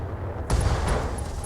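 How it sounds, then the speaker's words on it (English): In the mech combat game Battletech, an explosion hits suddenly and loudly after a quieter moment, then rumbles and crackles on as a dense, sustained roar. "And we got an explosion and you're out."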